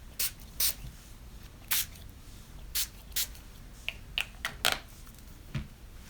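Short hissing bursts of Distress Spray Stain ink sprayed onto a paper background, about a dozen quick separate puffs with quiet pauses between, close and fairly soft.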